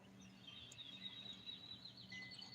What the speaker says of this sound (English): It's really a pretty morning if you hear all the birds.